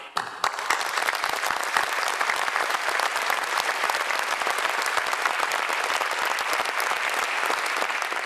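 A large crowd applauding at a convocation address, dense sustained clapping that starts abruptly and holds steady throughout.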